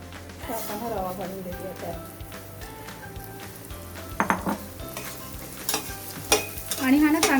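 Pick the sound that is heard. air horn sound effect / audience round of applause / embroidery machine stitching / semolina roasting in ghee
semolina roasting in ghee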